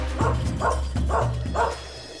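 A dog barks four times in a steady rhythm, each bark a short, clear, fairly close yelp over a low constant hum, with no talking.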